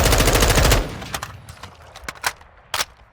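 Rifle gunfire in Call of Duty MW2 crackles in a rapid automatic burst for under a second, then scattered sharp shots and impacts follow at intervals, fairly close and loud.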